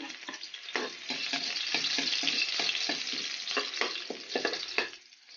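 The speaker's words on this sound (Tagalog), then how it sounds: "Gigisa na tayo ng sibuyas at bawang." Onion and garlic sauté in a pan, a steady close sizzle broken by repeated scraping and stirring strokes, with no talking.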